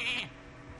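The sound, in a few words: goat bleating in the video game Hearthstone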